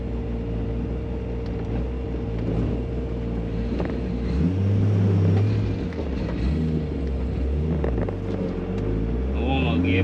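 A turbocharged car fitted with a Precision 7675 dual ball bearing turbo drives off gently while warming up, its engine droning steadily with a brief rise in revs midway, and wind noise and a voice over it.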